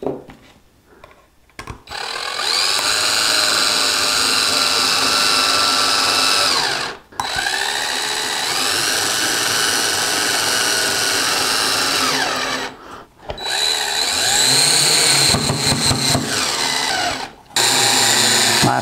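A power driver runs screws into a silicone mold box for a bobblehead. Steady, loud whirring bursts continue for several seconds at a time, broken by short pauses between screws.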